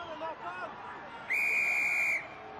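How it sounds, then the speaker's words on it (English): A referee's whistle at a Leinster v Exeter Chiefs Champions Cup rugby match, blowing for a penalty: one long, loud, sustained blast over a low crowd murmur. "Oh, whistle, penalty."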